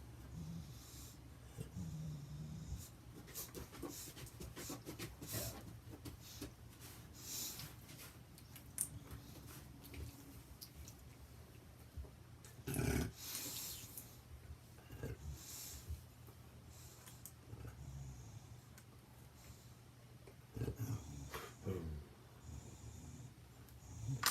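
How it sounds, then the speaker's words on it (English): A dog vocalizes at home with soft, low grumbling snorts and breathy, snore-like rumbles, faint and close, continuing in irregular stretches with one louder huff near the middle. "Oh, my dog is talking."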